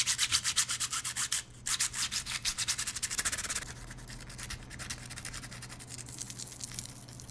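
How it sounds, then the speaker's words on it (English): A garnet stone scratches across the sapphire screen of an iPhone 6, producing rapid rhythmic rasping strokes up close, loud at first, a brief pause, then fainter, finer scraping continuing to the end. "I also noticed it made a very different sound when scratching."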